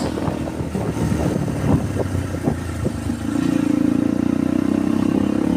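Motorcycle on a morning road trip toward Pendopo town in PALI regency, its engine rumbling steadily and then rising into a louder, sustained drone as it accelerates, recorded close from the rider's position with no talking.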